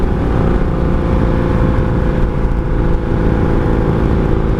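A 1982 Honda Magna V45 VF750C motorcycle engine drones loudly and continuously while riding, with a dense, steady roar mixed with wind rush, heard up close throughout.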